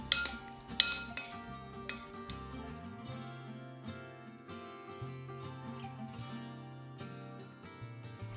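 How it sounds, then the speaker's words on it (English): Quinoa pilaf with dried cherries being stirred in a pot, a few sharp clinks of a utensil against the pot at the start, then softer scraping, close and quiet, no talking. "Give that a bit of a stir."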